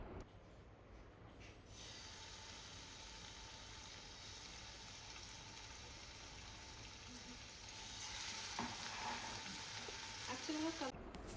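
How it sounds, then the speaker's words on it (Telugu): Masala-coated pieces shallow fry in oil in a pan, giving a soft, continuous sizzle that swells louder near the end, with a few faint clinks and no one talking. "తర్వాత ప్యాన్‌లోకి కాస్త ఆయిల్ తీసుకొని ఇవి షాలో ఫ్రై చేసుకోవడమే"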